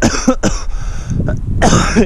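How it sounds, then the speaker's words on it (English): A few harsh, close coughs in quick succession with a throaty rasp, followed by another burst of coughing. "I have a cough"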